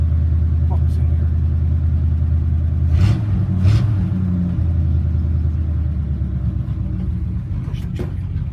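A 1952 Ford F1 truck idles after a cold start with a steady, lumpy low rumble close by, a couple of brief revs rising above it while a person talks over the engine.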